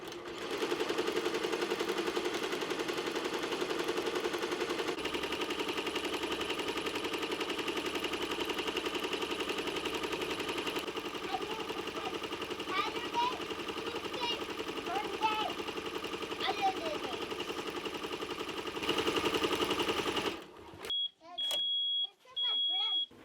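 An embroidery machine stitches a small job in an embroidery shop, making a steady close mechanical hum and chatter for about twenty seconds. Faint voices sound underneath, and then it stops, leaving a few short beeps.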